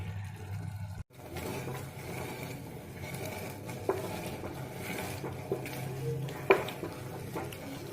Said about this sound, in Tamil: கீரை வெந்துச்சு. இப்போ கடையலாம்.